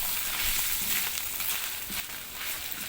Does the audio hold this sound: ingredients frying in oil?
yes